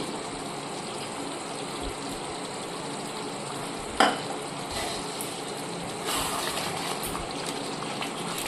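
Chopped coriander and mint leaves sizzle in a pan of chicken masala, a steady frying hiss with a single sharp clink midway and a louder burst of sizzling near the end.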